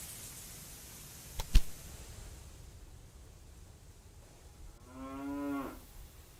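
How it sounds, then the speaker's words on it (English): Cattle moo in the railway building game Railway Empire 2. A single drawn-out low moo comes near the end over a faint ambient hiss, after a brief sharp knock. "Let's get our cows going."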